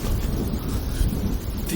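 Heavy rain with deep thunder rumbling in a Telugu movie scene, a loud, dense downpour hissing over a low, continuous roll of thunder that lasts throughout, with no voices.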